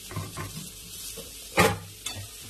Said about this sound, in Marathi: परतून घेऊ आता मस्त.